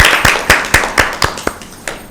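Audience clapping for Team B at a Bible quiz, a small group striking hands in a steady, evenly spaced rhythm of sharp, close claps, with no talking over it.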